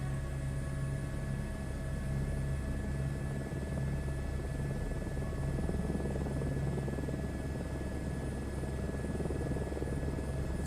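Steady helicopter rotor and turbine drone from Microsoft Flight Simulator 2024 as the aircraft lifts off toward a helipad, a constant loud hum with rotor buzz and a high whine, no talking.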